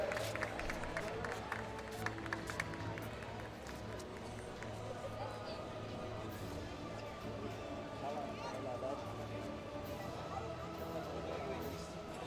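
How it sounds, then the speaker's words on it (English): Crowd applause and cheering in an indoor padel arena as the top-ranked finalists of a women's final walk onto center court, a steady, distant wash of clapping and crowd noise with voices mixed in. "Applause, come on guys. Give them what they deserve."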